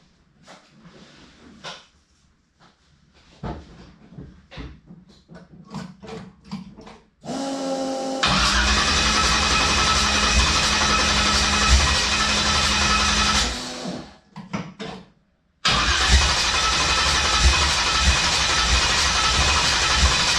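An engine cranks and fires on alcohol fuel, breaking into a loud, steady roar that runs for several seconds, dies briefly, then catches again and keeps running, after a stretch of scattered clicks and knocks.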